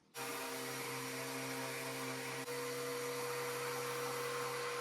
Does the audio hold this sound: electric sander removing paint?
yes